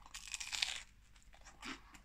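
Crisp crunching bites into a crispy pizza crust, a loud burst of crackling followed by a second shorter crunch, close up with no talking.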